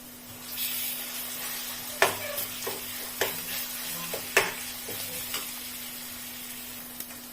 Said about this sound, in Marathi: आणि छानपैकी आपल्याला वाटण परतून घ्यायचंय